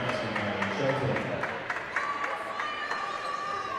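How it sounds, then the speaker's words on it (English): Crowd cheering from a men's basketball team in a gym during a women's college basketball game, a steady roar of voices and claps with bright shouts, continuous throughout. "The Bethel men's team cheering on the women's team off to our left."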